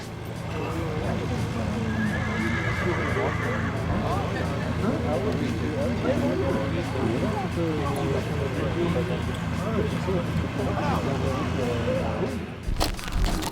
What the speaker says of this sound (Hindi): ये एक फ्रीजियन हॉर्स है